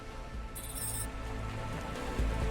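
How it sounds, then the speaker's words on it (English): Steady city rain in the cyberpunk game Cloudpunk, a continuous hiss pattering on surfaces with a brief bright tone near the start and a low rumble swelling at the end, no voices. "I love how it's always raining in the city."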